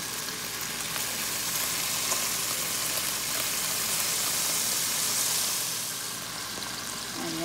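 Sirloin steak sizzling and frying steadily in a pan with melted butter and a spoonful of seasoning, a dense continuous crackle close up with no talk.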